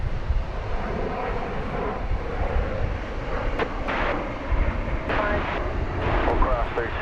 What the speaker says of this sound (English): Oh, we have a go round.